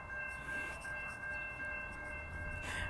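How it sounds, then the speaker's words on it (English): A train rolls past close by as a steady rumbling roar, with faint rail clatter and a brighter rise near the end. "forgot about the train."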